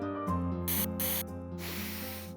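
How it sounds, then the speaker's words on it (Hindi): An Angel perfume spray bottle gives two short, bright hisses close up, followed by a longer softer spray, over a steady tonal music bed with no talking. "Angel spray."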